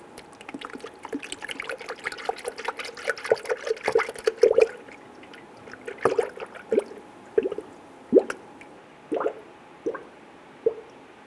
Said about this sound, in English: start to fill the cooling system with the recommended coolant from the manufacturer